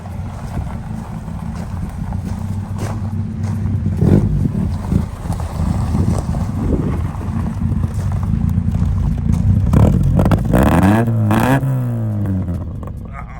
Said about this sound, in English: It's amazing how much throatier the exhaust is now.